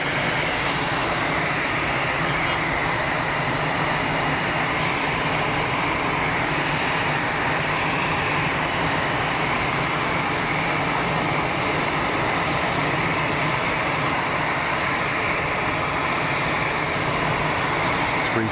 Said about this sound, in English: 737-600, another thing, like you say, an aircraft that the world didn't really need.